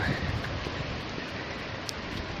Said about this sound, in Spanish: llueve muy fuertemente